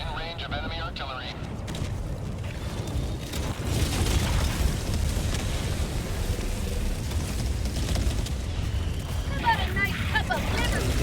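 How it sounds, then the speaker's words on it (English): Enemy artillery shells exploding in the video game Helldivers, a run of loud deep booms and rumbling blasts that fill the whole stretch, with gunfire and voices talking over the chaos. "Warning, you are in range of enemy artillery."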